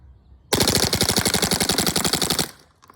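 A rapid burst of full-auto airsoft fire, about two seconds of evenly spaced sharp shots, loud and close, then it stops.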